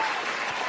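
Steady wash of clapping and cheering from a small group of podcast hosts welcoming a guest, continuous and fairly close, with no distinct voices standing out.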